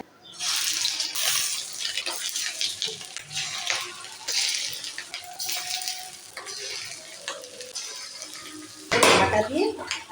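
Steady crackling sizzle of rohu fish roe frying in hot oil, continuous and close, with a sharper clatter near the end.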